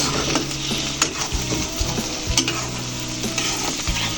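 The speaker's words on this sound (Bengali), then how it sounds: "এবার আমি এগুলো ভালোভাবে ভেজে নেব" Ingredients for noodles frying in a pan, a continuous close sizzle with intermittent scrapes and clatter from stirring, no voices.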